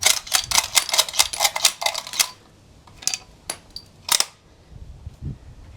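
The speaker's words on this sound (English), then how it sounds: "you can just push the bolt forward and back and it'll eject them" A Lee Enfield rifle bolt is worked back and forth to eject cartridges, giving a rapid string of sharp metallic clacks followed by a few spaced clicks and a rattle, close and loud.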